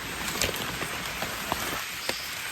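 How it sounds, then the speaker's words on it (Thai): Steady rain patters down, a soft continuous hiss with a few sharper drops landing close by; no voices. "ตอนนี้ฝนกำลังตกครับ"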